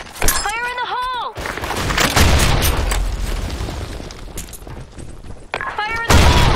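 Grenade explosions in the shooter Blackshot, a heavy booming blast followed by rumbling debris and further bangs, loud and close, with a radio-style voice callout briefly heard at the start and again at the end.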